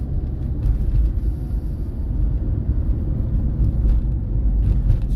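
A car drives along a road in South Central, with a steady low engine and tyre rumble from inside the cabin and faint passing noise, without talk.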